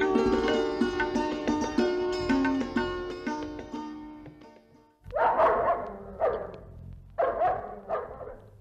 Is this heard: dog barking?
yes